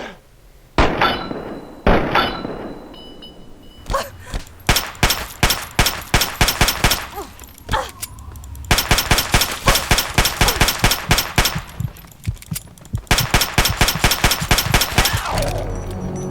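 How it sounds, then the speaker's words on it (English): Rapid gunfire in Fallout 3, sharp loud shots fired in bursts and single cracks, some in quick rattling runs with brief pauses between, alone without talk. "Here's a headshot."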